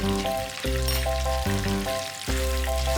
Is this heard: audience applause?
no